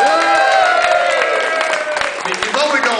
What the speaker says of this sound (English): Everybody, round of applause for Grom.